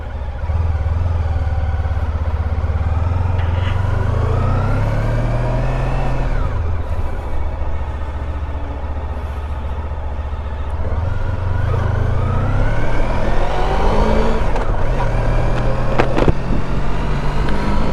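A Honda ST1300 motorcycle rides along twisty roads, its engine a steady close roar that dips and rises again as the rider works the throttle through the bends.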